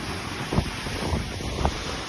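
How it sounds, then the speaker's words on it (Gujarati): Floodwater after heavy rain in Saurashtra swirls into an eddy and rushes toward an underground channel. It makes a steady, broad outdoor wash of flowing water with wind buffeting the microphone and a few faint low thumps. "અહીંયાથી ઘૂમરી પડીને પાણી કેવું જતું છે"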